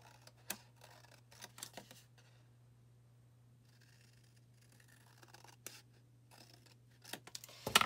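Paper being cut with scissors while assembling an explosion box album, heard as a few short, faint snipping and rustling bursts spread through a quiet stretch over a steady low hum, with a louder crinkle at the end.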